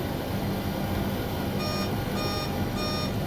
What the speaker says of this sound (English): that beeping was because I had the speed brakes out with the localizer, with the flaps